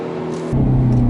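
A 2019 Hyundai Veloster N hot hatch engine accelerates up close, a loud harmonic drone that jumps in volume and pitch partway through as the throttle opens.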